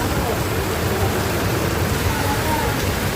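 A downpour during a typhoon on a Parañaque street makes a thick, unbroken hiss of heavy rain striking the ground nearby, loud and even from start to finish.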